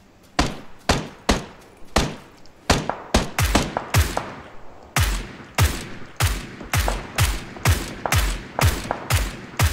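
Gunfire in the video game PUBG, a dense run of sharp, punchy shots in quick irregular bursts, loud and close, continuing steadily for nearly ten seconds.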